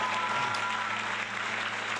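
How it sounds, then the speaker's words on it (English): Audience applause for an engineering and product team at a product launch, a steady wash of many hands clapping that fills the whole span without a break. "let's give it a round of applause for engineering and our product team"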